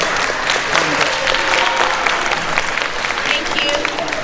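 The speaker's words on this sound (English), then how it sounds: "let's give Miss Wilson a round of applause" Audience applause for Miss Wilson at an Army band event, a full, steady crowd clapping close and loud for several seconds with scattered voices mixed in.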